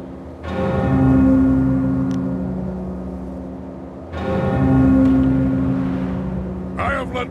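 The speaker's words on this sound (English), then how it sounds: "Sky better have a good reason for ringing that bell" Large bell from the video game Jade Empire tolling twice, each deep, ringing strike slowly fading over several seconds, with a faint clatter at the end.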